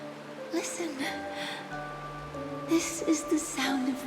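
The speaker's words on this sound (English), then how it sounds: "This is the sound of rain." Steady rain falls in the video game Honkai Star Rail, a soft continuous hiss beneath game music with tonal notes and occasional brighter splashes.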